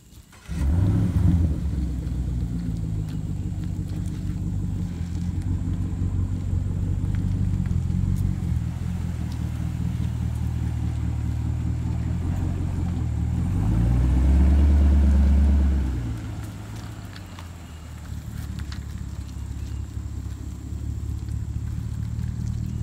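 A car engine runs outdoors as the car is moved, a steady low rumble throughout that swells louder for a moment near the end before settling back.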